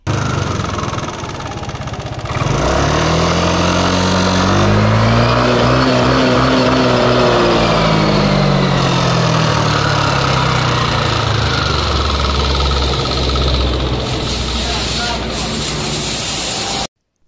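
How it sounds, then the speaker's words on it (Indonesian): A Yamaha NMAX scooter engine running loud and close with a rough, uneven tone, its pitch swelling and dropping midway before cutting off abruptly. "kedatangan sepeda motor NMAX ya yang bunyinya kasar seperti ini"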